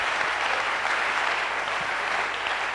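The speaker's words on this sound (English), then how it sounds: "Clap for Jesus." A church congregation claps for Jesus during a sermon, producing dense, steady applause from many hands that fills the whole stretch at an even level, with no voices standing out.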